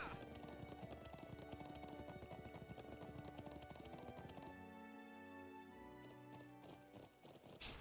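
Horse hooves clip-clopping in a video game, a steady rapid run of hoofbeats that slows into a walk partway through, mixed with quiet game music and no voices.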